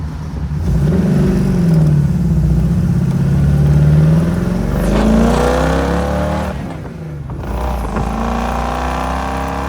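A 1957 Corvette's engine revs steadily and loud for several seconds, its pitch rising and falling as it climbs toward about 4,000 rpm, close by with no voices over it.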